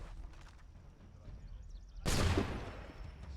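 In Assassin's Creed 3, a sudden loud cannon blast booms out after a stretch of low ambient battle noise, then its roar decays slowly over the last second.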